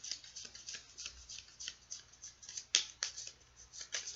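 Tarot cards being shuffled by hand, a run of soft, quick riffling taps and flicks at close range, irregular but continuous, with one sharper snap partway through and no talking.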